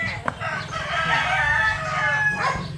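A White Hatch Muff gamefowl rooster with white claret blood and green legs crows in one long, loud, drawn-out call, close by, over a steady low background hum.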